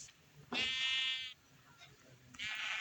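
A sheep in the Minecraft video game bleats twice, each a short, wavering electronic baa, fairly quiet and heard alone with no one talking.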